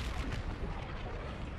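Rumbling missile blasts from a space battle in the video game Call of Duty: Infinite Warfare, a dense continuous low roar of explosions with crackling texture, steady and loud throughout with no talking.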